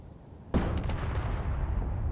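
A missile explodes in Space Engineers: one sudden loud blast hits after a quiet moment, then a rumbling, crackling tail keeps going steadily to the end.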